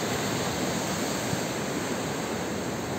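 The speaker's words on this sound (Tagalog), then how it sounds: "Makita mo yung mga alon sa ibaba." Ocean waves surge at the foot of a high cliff near a lighthouse, heard from above as a steady, dense roar blended with wind, with no voices.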